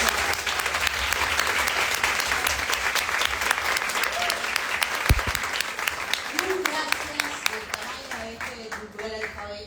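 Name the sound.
audience applause welcoming an author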